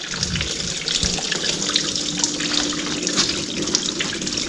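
Liquid drains steadily from a barn-find International Super A tractor engine during a head removal, a constant close splashing and trickling pour running alone throughout.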